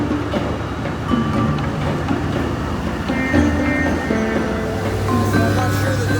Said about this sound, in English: There's two trains coming.